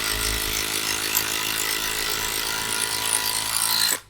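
A POLO PCB161A2 cordless impact driver rated at 160 Nm, set to gear three, runs at top speed with a close, continuous, rapid hammering rattle for about four seconds before cutting off.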